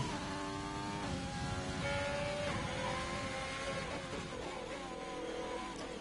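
Race car engine held at full throttle in a sim racing game round at Belgium, a steady loud roar with shifting harmonic tones as it climbs through gears, continuous for the whole stretch.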